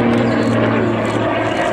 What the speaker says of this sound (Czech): sudový výkrut letounu Gripen okolo letounu